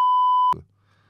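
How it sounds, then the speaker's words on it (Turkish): A censor beep, a single steady electronic tone held for about half a second and cut off abruptly, followed by faint room noise. "Burayı bipleriz."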